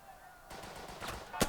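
Bursts of gunfire from the Burden of Command video game, set in Casablanca, cracking out faintly at first and growing louder, with a sharp close shot near the end.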